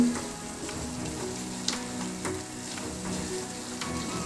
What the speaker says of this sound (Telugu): ఒక రెండు నిమిషాల పాటు ఇలా ఫ్రై చేసుకోవాలి